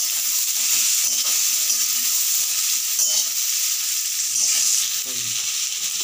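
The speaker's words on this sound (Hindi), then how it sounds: "सारा सब्जी हमारा भुना रहा है" Mixed vegetables with green peas fry hard in a pan, giving a loud, continuous hissing sizzle throughout with occasional faint clinks of a stirring spoon.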